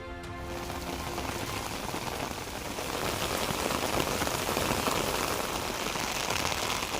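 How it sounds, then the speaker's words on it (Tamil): Steady rain falls at midday in the Tiruppur and Ranipet area, a dense, even hiss of drops on surfaces that grows slightly heavier partway through, with no voices. "திருப்பூர், ராணிப்பேட்டை, திருப்பூர் சுற்றுவட்டார பகுதிகளில் மதிய வேளையில் மழை."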